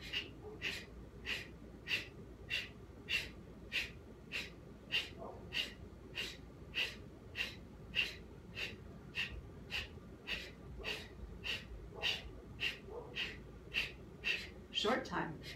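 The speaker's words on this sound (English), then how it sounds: "we're going to go ahead and take some breath of fire" Breath of fire yoga breathing: a long run of rapid, forceful nasal exhalations in a steady even rhythm, about two per second, close and clear with nothing else over it.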